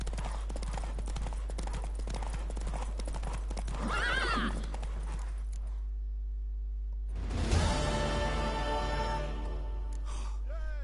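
A horse in The Witcher 3 trots with steady clip-clop hoofbeats, then lets out a loud, close whinny, with game music and ambience around it.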